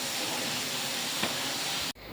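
Steady, loud hiss of a pressure cooker releasing steam in a home kitchen, continuous and close, cutting off abruptly near the end.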